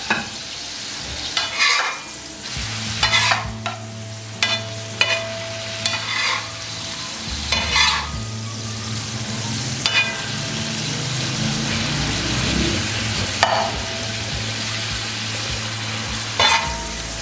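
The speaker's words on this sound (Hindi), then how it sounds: "चिकन को लहसुन अदरक और प्याज के साथ इसको फ्राई करना है" Chicken pieces fry with garlic, ginger and onion in a pan for a murgh kata kaat dish, giving a steady sizzle broken by repeated scraping bursts of stirring.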